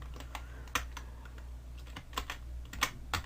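Keys pressed on a computer keyboard to undo steps in Autodesk Maya 2020: a handful of crisp, close clicks at irregular intervals over a steady low hum, with no talking.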